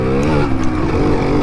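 An old 100cc two-stroke motorcycle, similar in engine to a Yamaha RX, idles and runs close by with a steady buzzing drone and slight fluctuations throughout.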